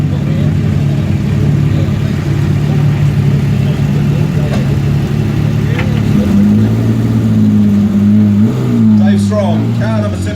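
Rally car number 17, driven by Dave Strong, pulls away from the start with a steady mid-pitched engine rumble that rises in pitch partway through, close and loud, alongside a commentator's voice.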